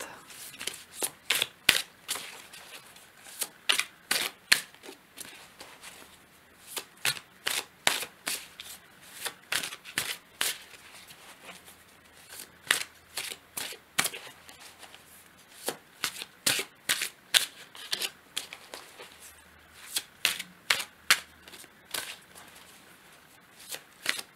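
Tarot cards are shuffled by hand before a draw, making repeated quick riffling bursts of crisp flutter and snap at a steady rhythm, close and clear, with no voices.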